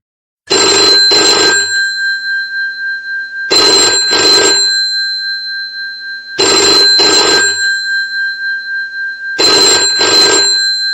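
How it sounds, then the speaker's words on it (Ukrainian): A telephone bell rings in four loud double bursts, evenly spaced with silent gaps between, close and clear. "що це був звук телефону"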